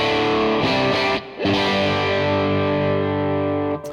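Electric guitar through a Neural DSP Quad Cortex capture of a distortion pedal, treble turned up, playing fuzzy sustained chords with a couple of short breaks, then a long ringing chord, loud and close with no talking.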